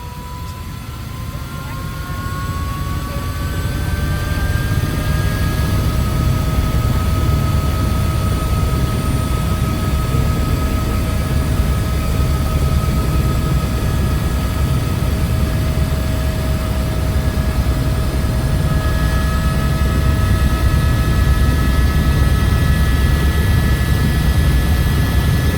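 Loud, steady drone of an aircraft engine with a low rumble and rising whining tones, continuous throughout, heard from close by.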